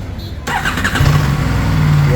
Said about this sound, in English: the bike has started with a brand new Excite battery